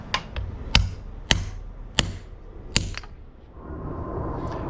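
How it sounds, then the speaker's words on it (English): A hammer strikes a carbon bicycle steerer tube from a Canyon or Merida, giving five or six sharp, loud knocks at irregular intervals of about half a second to a second, each ringing briefly before fading into quiet background noise. "let's see how far this will go to actually have a breakage under the hammer"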